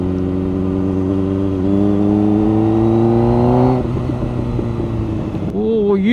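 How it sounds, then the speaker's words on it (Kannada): A Kawasaki ZX-4R's engine revs loudly and climbs in pitch, then drops off with a crackle of pops on deceleration before another short blip, up close with someone talking over it. "ಗಾಡಿ ಎಳ್ದ್ಬಿಟ್ಟು ಬಿಟ್ರೆ ಪಟ ಪಟ ಪಟ ಪಟ ಹೊಡಿತಾ ಇದೆ"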